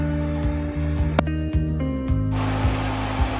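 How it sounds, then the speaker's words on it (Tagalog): An electric fan hums and whirs steadily, a constant low drone with airy noise and a few soft knocks. "Mas naririnig natin yung ingay ng electric fan."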